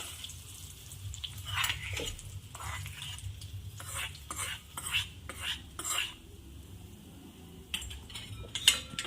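Sabudana chivda being tossed and stirred in a pan with a spoon, a series of scraping, clinking strokes at a relaxed, uneven pace, close and clear with no talking.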